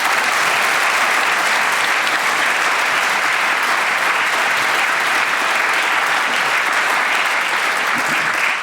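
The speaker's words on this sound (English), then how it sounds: "we salute you with this barking mad round of applause" A studio audience at the Brain of Britain radio quiz gives a full, sustained round of applause, a dense, even wash of clapping that holds steady without talk.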